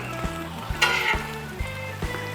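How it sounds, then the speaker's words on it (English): Onions sizzling on a Blackstone griddle for a smash burger patty melt, a steady close hiss with a brief louder burst as they hit the hot surface and a few light scrapes, no voices. "And so we're going to put some onions on."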